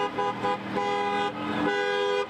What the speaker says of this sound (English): Supporters honked